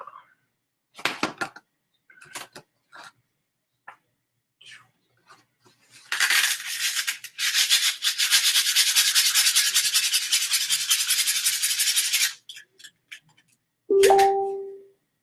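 Wooden wands are lightly sanded, keeping most of the bark, in a dense scratchy burst lasting several seconds. Scattered taps and clicks come before it, and a short ringing knock follows.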